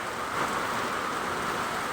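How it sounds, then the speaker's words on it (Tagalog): Dense, steady hiss of heavy typhoon rain pouring continuously, loud and even throughout with no other sounds. "Magdamag na lang ang ulan."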